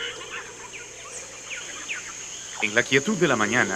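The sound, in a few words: jungle birdsong by a river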